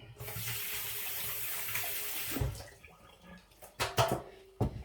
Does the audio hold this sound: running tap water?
yes